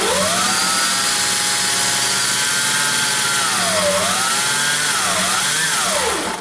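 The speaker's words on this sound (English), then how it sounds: "we're just going to put a small pilot hole roughly about here." A drill bores a small pilot hole through the plastic liner of a Fagor fridge freezer, its close, loud motor whine holding steady and then dipping and rising in pitch several times as pressure changes.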